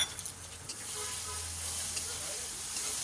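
Prawns frying with ginger and garlic in hot oil: a steady, close sizzle and hiss that continues throughout, with faint spatters and a low background hum.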